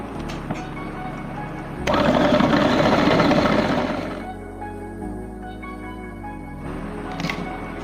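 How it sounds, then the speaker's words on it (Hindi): An electric grinder runs at close range, finely grinding chicken seekh kebab mince with ginger, garlic and spices. Its whirring roar swells for about two seconds, then drops back to a quieter hum. "अब हम सब चीज़ों को जो है अच्छे से बारीक पीस लेंगे।"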